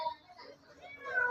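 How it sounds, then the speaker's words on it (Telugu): A cat meows softly, with a faint short call near the start and a clearer, brighter meow toward the end. Quiet voices sit in the background. "పిల్లి తిన్నీకి వస్తుంది"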